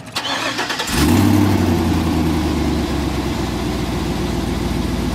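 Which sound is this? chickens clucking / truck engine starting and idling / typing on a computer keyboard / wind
truck engine starting and idling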